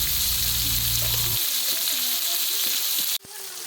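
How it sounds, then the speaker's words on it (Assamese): Pork fries in oil in a pan, a loud steady sizzle that drops off abruptly partway through before a short clatter, with a voice speaking over it. "মাংসখিনি যিমানে ভাজিছোঁ সিমানে মাংসখিনি পমি তেল ওলাই গৈছে"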